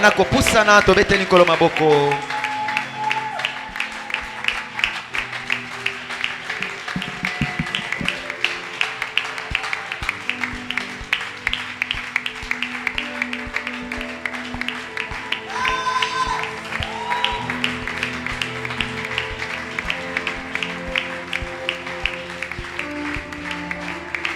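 Church congregation applauding and cheering to welcome preacher Timothée Mawesi, dense rhythmic clapping running throughout with voices mixed in, loud and continuous.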